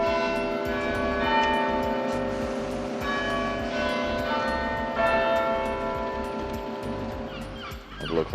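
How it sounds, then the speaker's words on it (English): Cathedral bells ringing in Chester city centre, heard from the city walls, a sustained wash of overlapping tolls with steady pealing throughout, moderately loud and somewhat distant, with a dog barking and yipping nearby and light street ambience. "there we go, there's cathedral bells"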